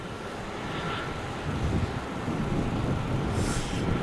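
A Qantas Dash 8 turboprop landing on runway 27 at Melbourne Airport at night, a steady distant rumbling drone that grows slightly louder, heard from the terminal with no talk.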